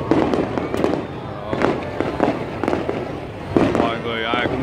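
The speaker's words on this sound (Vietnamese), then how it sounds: "mọi người ai cũng hướng về để coi xem là những cái màn bắn pháo bông" Fireworks bursting over Saigon on April 30, 2019, with dense crowds filling the streets. Repeated sharp booms and crackles ring out at an irregular pace beneath continuous nearby talking.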